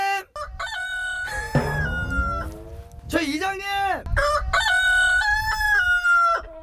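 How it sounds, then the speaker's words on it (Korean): A rooster crows repeatedly, loud and close, its long drawn-out calls coming one after another while someone shouts in Korean between and over them. "저 닭인가 본데?"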